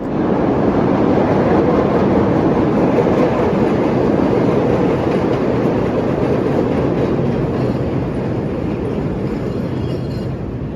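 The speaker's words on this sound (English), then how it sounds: "This was the only heritage train today to run on the outer loop." A CTA 2400 series heritage L train runs on the Chicago outer loop with a loud, continuous rumble and rattle of wheels on elevated track, heard close and steady throughout with no voices.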